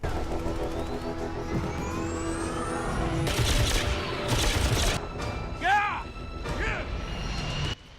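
Laser guns fire in a space western TV episode, bursts of harsh blasts followed by a few quick descending zaps, set amid engine-like drone and a voice talking over them.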